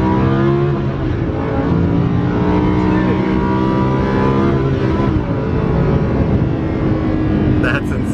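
A Lamborghini Huracan drives and revs with a loud, continuous engine roar that rises in pitch as it accelerates, close by, with people talking over it.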